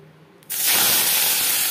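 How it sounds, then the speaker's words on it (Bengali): Prawns hitting hot refined oil in a pan burst into a loud, steady frying hiss that begins abruptly after a brief quiet moment and continues unbroken. "3 চামচ রিফাইন্ড অয়েল গরম করে নিয়েছি। এবার দিয়ে দিলাম চিংড়ি মাছ।"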